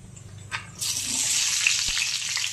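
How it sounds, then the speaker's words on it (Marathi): Oil poured into a hot kadhai starts to sizzle and fry, a bright steady hiss that begins abruptly and continues close up, with a few small clatters beneath. "कढईमध्ये थोडं तेल टाकून घेते।"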